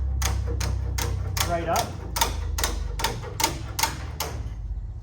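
Snips cutting along the middle of a 2x4 on a deep litter chicken coop build, a series of about ten crisp, evenly spaced clicks close by, under a man's brief speech.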